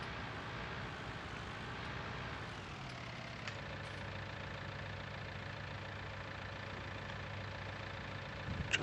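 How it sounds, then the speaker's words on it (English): Farm tractor engine running steadily while ploughing, a continuous low droning rumble heard from the driver's position, with a slight shift in pitch early on and a faint knock near the end. "Let you enjoy the sounds of the tractor here."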